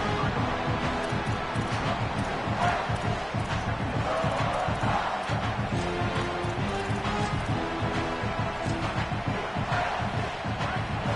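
Stadium crowd noise from an NCAA college football video game: a continuous, moderately loud crowd roar with rising swells, scattered shouts and voices mixed in.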